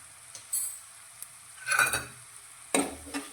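Spices being stirred into a spinach and pea curry in a pan over a low flame, with soft sizzling and a few distinct scrapes and clinks of the spoon against the pan.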